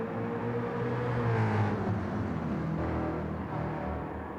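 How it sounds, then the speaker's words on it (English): A car engine in the Gran Turismo 7 racing game drones steadily and loudly throughout, its tone rising slightly mid-run as if accelerating, with no talking over it. "Pretty cool sound, this car."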